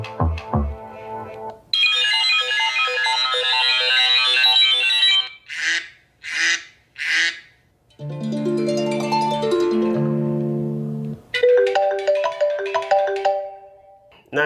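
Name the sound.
ringtone of an iPhone 6 clone phone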